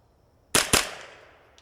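Two sharp gunshots in quick succession from a Kidd 10/22 rifle in .22LR, fired as a double tap at long range outdoors, each crack followed by a fading echo.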